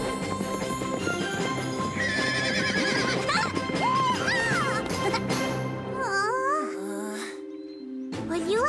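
Several horses whinny and neigh in rising and falling calls, with hooves clip-clopping under them. A brief quiet gap comes before another neigh. Animated-show background sounds and voices mix in throughout.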